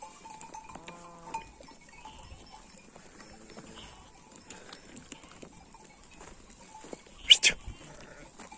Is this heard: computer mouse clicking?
no